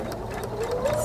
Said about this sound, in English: I have my foot on the foot control to make the machine do that last tack and that last scissor.